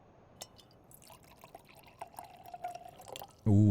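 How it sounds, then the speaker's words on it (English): Wine pours in an anime scene from Frieren, a soft trickling run of liquid with faint drips, moderately quiet, cut off by a loud burst of other sound at the very end. "the wine pouring animation"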